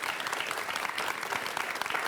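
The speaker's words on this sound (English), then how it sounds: "So give them a warm round of applause." A studio audience applauds its guests at the close of a table-topics event, a brief, even patter of many hands at moderate distance.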